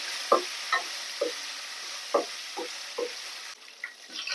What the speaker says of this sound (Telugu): పచ్చిమిర్చి ధనియాలు మినపప్పు ఇవన్నీ వేగిపోయినాయండి